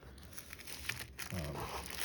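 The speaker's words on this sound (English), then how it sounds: "So it comes with a cellophane wrap." Cellophane wrap peeled off an Apple Pencil box by one hand, a close, soft run of crinkling and crackling that swells toward the end.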